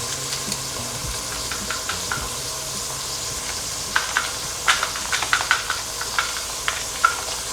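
Beef and vegetables sauté in a pan with a steady, soft sizzle, broken by clusters of sharp scraping stir strokes and clicks toward the end, close and moderately loud.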